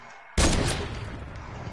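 A sudden loud gunshot burst in an online shooter game hits close and then rolls into a sustained rumbling tail of continued firing, with no talking over it.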